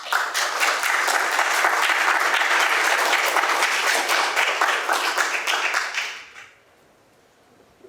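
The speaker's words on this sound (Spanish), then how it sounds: "Para todos ellos pido por favor un fuerte aplauso." An audience at a literary event applauding, dense sustained clapping up close for about six seconds before tapering off quickly into quiet room tone.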